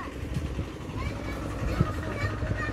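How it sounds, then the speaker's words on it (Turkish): Low engine rumble of a tractor plowing the garden next door, steady and somewhat distant, with voices talking over it throughout. "Yan komşu bahçeyi mi sürdürüyor traktörle?"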